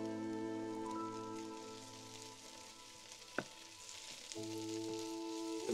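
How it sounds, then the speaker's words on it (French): Small onions browning in a frying pan, a faint steady sizzle running underneath along with a steady tonal hum, plus a single sharp clink partway through, quiet and without talk. "Donc là, je fais dorer les petits oignons."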